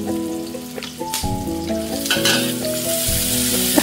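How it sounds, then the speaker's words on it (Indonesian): Garlic, shallots and chili sauté in a pan with a loud, close, continuous frying sizzle that swells and spits in bursts, broken by a few sharp scrapes as the pan contents are moved. "Kemudian ini kita panaskan, kita tumis bawang putih,"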